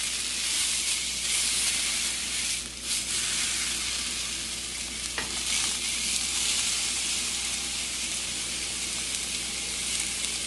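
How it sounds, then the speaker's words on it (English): Steak and shrimp sear in a hot pan, giving a loud, steady sizzle and hiss of frying that runs unbroken, with faint stirring and steam noises and no voices. "You hear that searing?"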